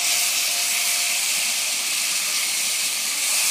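Spice-coated meat dropped into very hot oil in a pan over a high flame sizzles with a loud, continuous hiss that holds steady without any talking.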